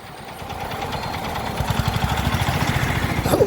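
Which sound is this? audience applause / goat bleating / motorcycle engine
motorcycle engine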